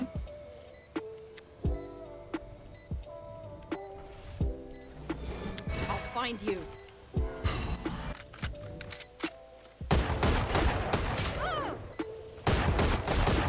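Gunfire in the tactical shooter Valorant: sharp, close shots in spaced single bursts, then a denser stretch of rapid, continuous fire toward the end, with little talk.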